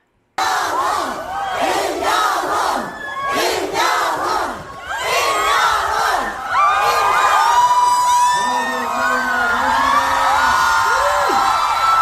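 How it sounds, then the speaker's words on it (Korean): Fans at a concert in Busan roar and scream in a massive crowd cheer, loud and continuous, with shrill whoops rising over the din. "우리 팬분들의 이 환호성이요, 엄청납니다"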